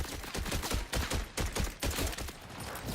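Rapid bursts of gunfire from a Jacobs weapon in Borderlands 4, loud and repeated with short gaps, each shot cracking sharply and trailing into ricochet-like noise throughout.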